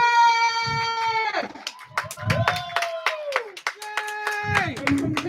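Scattered audience clapping at a poetry slam, bursts of hand claps under loud, drawn-out cheering and whooping voices.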